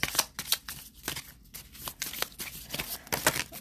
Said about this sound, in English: Let me pick up a few more cards.